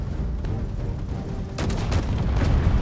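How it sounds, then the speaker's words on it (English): A hydrogen tank blowing up in the video game Space Engineers during a snowstorm, a sudden burst of crackling explosive booms and debris impacts after a low rumbling lead-in. "we blew up a hydrogen tank right there. That's what that was."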